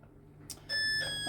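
A short electronic ringing tone sounds from a device, a steady high-pitched bell-like beep in a quiet room.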